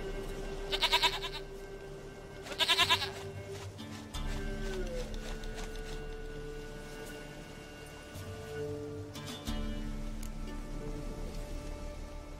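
Goat in the Witcher 3 video game bleating twice in quick succession, short quavering cries, then a later faint third bleat over a low humming game backdrop.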